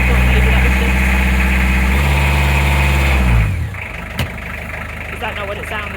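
Narrowboat diesel engine started the wrong way, running with a loud, steady idling rumble for about three seconds before dropping abruptly to a quieter, rougher chug with a single knock.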